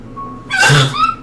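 A single close, loud human sneeze: a brief quiet intake, then a sharp explosive burst that trails off quickly.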